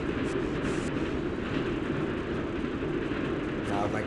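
Train in the off-road racing video game ATV Offroad Fury 2, a steady continuous rumble running throughout with someone talking over it.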